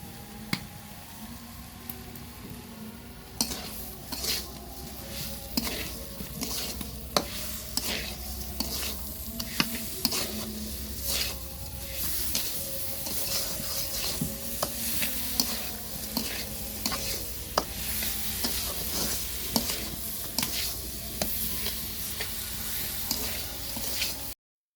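Green tamarind pickle fries with chilli powder in a pan, sizzling steadily while a spoon stirs and scrapes through it in repeated clattering strokes, close and continuous, with no voices.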